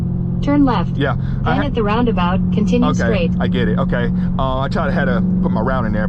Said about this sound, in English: Now you may hear the hum of the exhaust in the background of the video